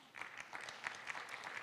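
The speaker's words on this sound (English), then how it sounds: "with a round of applause" An audience at a regional symposium on governance and digital transformation breaks into applause, a dense, even wash of many hands clapping at moderate distance that holds steady without voices.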